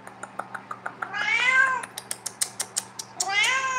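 A cat meows repeatedly and close by, with short rhythmic mews alternating with a couple of longer, drawn-out wailing cries, heard alone over a quiet background hum.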